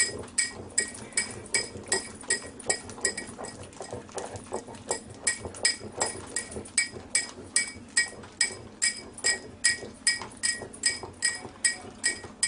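A pestle pounds alioli in a mortar as oil is added drop by drop, making a steady series of sharp ceramic clinks at a regular, even rhythm, close and clear with no speech.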